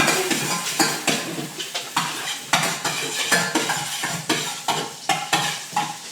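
Butter melting in a very hot pan as the base for a roux, sizzling steadily with repeated scraping and clinking of a utensil against the pan in an uneven rhythm, close and fairly loud, no talking.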